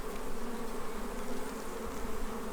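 Honey bees buzzing around a beehive on an organic farm in Portugal, a dense, continuous droning hum from many insects up close, steady in loudness with no voices.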